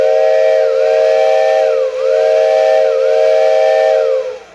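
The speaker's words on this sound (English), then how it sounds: "So I now have an electric whistle where I didn't have one 20 minutes ago." Homemade electric steam whistle for a Marx model train layout sounds a loud, sustained, chord-like tone, held for about four seconds with slight wavering dips before cutting off, alone and close.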